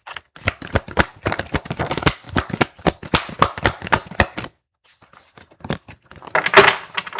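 Tarot cards riffle and slap in a quick run of crisp, close shuffling snaps, then a pause, then a few softer card sounds as a card is drawn.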